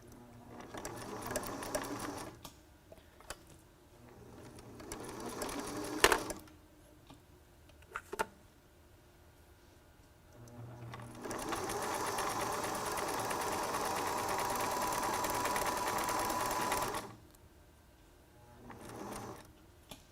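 A sewing machine stitches elastic into a face mask made from a T-shirt, running in short bursts and then in a long steady whirring run before stopping, close and moderately loud with handling noises between runs.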